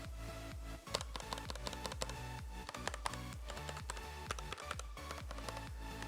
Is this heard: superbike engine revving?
no